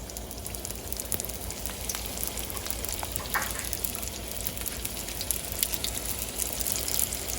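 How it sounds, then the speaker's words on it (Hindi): Spring rolls frying in hot oil over high heat, a steady, dense crackle and sizzle with scattered pops running throughout without any voices. "इनको हाई हीट पे मैंने फ्राई कर लेना है और बस रेडी।"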